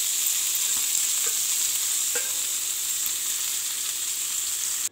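Chicken fries in a pan for a dhaba-style butter chicken, a steady loud sizzle running the whole time with a few faint clicks of stirring, no voices.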